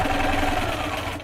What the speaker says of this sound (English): I'm going to go ahead and sew on my purple piece to the blue piece with right sides together and just sew it